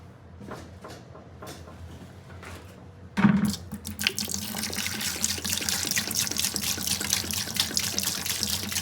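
Speed Dip trap dye is poured from a container, first with a few faint clinks, then a sudden splash and a steady, close liquid stream that keeps running for several seconds.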